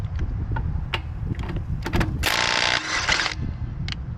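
A Ryobi impact wrench removes a tire lug nut, with a loud, dense burst of rapid hammering lasting about a second, preceded by several short clicks and clunks.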